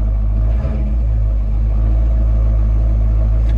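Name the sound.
car driving along Route 66 in Arizona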